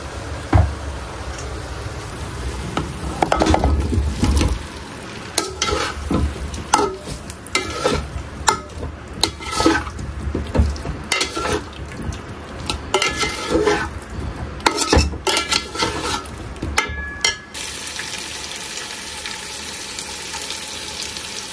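Potatoes fry in a spiced masala in a pan, with repeated scraping stir strokes and clattering utensil knocks over a bubbling sizzle that settles into a steady hiss at the end.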